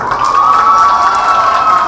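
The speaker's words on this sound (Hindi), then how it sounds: "उनके लिए जोरदार तालियां।" Crowd at a fashion show cheering and clapping for the participants and designers, a loud continuous wash of shouts and applause filling a short moment, with a sustained tonal hum running underneath.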